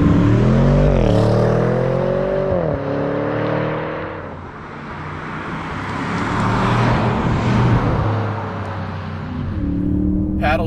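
An Audi S8 pulls through its 8-speed ZF gearbox, engine tone rising and dropping at each paddle-shifted gear change, with road and wind roar building between shifts.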